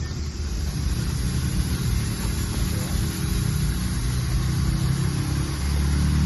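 A motorbike engine runs steadily while the drive chain turns during chain cleaning, making a continuous low, even idling drone close by with no breaks.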